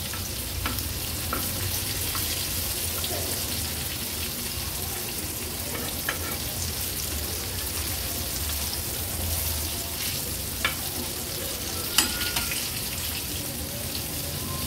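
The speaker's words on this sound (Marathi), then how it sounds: "आता मागची बाजू देखील सेम अशाच पद्धतीने 2 ते 3 मिनिटांसाठी लो टू मीडियम फ्लेम वर फ्राय करून घेऊया।" Pieces of karli fish fry in a pan over low to medium flame, giving a steady close sizzle and crackle with scattered small pops and clicks throughout, with no talk.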